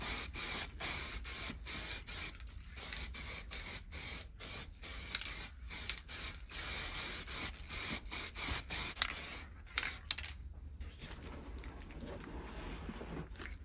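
Lacquer sprayed onto a motorcycle part during restoration of a barn-find Honda VFR400 NC30, heard as a steady series of short aerosol bursts with brief pauses, then a longer continuous hiss toward the end, close and fairly loud.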